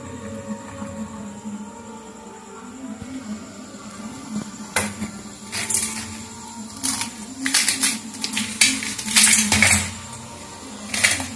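Crispy fried jute leaf pakora being bitten and crunched, a series of sharp crackly crunches that grow denser and louder toward the end, close up with no talk over them.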